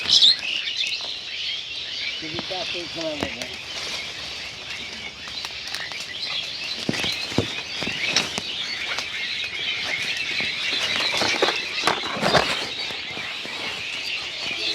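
Thousands of myna birds chatter and call together around Harinahati village, a dense, continuous flock of overlapping chirps and squawks filling the whole stretch at steady, fairly close loudness, with occasional sharper calls standing out.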